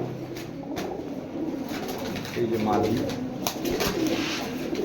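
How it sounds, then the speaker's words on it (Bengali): Gorra silver racer and Mushaldom pigeons coo steadily close by, a continuous throaty murmur from the flock with someone talking over it. "একটা মাকড়া, একটা মাদি কবুতর দেখার মতো"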